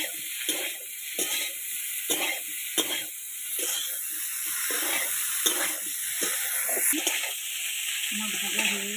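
Eggs seasoned with salt and turmeric fry in hot oil in a pan, giving a steady bright sizzle with intermittent stirring scrapes, close and alone without talk.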